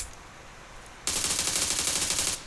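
Sustained automatic gunfire sprayed in PUBG Mobile, a dense rapid burst that starts abruptly after a quieter second of ambience and runs loud and continuous to the end.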